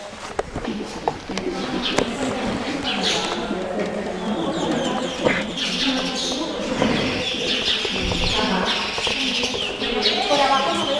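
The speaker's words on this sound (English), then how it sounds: "They got a lot of birds and things, haven't they?" Birds chirp and coo around the ancient rock-cut site of Petra in Jordan, steady calls scattered through a busy outdoor bed of crowd noise and footsteps, with people talking nearby.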